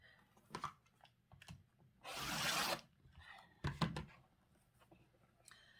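A rotary cutter slices quilt border fabric along a ruler in a few short, scraping passes, with one longer, louder rasping cut in the middle.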